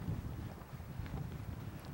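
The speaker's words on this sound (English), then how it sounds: "It's windy." Steady wind buffets the microphone on a sandy beach, a constant low rumbling roar that stays even and close for the whole moment, with no voices.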